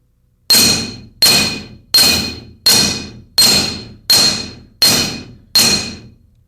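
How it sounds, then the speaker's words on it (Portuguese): A hammer strikes a metal strip laid on a block, eight sharp ringing blows at a steady, even pace, each loud clang decaying quickly before the next, with no talk. "As marteladas são dadas do centro da tira para as extremidades"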